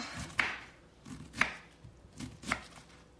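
A knife chops through a purple vegetable on a cutting board in three crisp, evenly spaced strokes, each a sharp close thud against the board with quiet pauses between.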